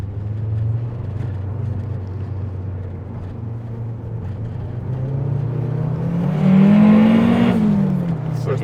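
Turbocharged Honda Civic with a bonnet-exit wastegate pulls hard through the gears, a loud engine drone rising in pitch toward the end, with a person talking over it.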